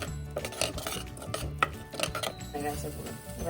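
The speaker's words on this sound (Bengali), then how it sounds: "এবার এক চামচ ময়দা নিলাম এবার এর মধ্যে দিয়ে দেবো দিয়ে ভালো করে নাড়লেই মাখা সন্দেশ রেডি" A spoonful of flour is stirred by hand into a soft makha sandesh mixture, making close, irregular scraping and clinking against the vessel, with a few sharper taps among the steady rubbing.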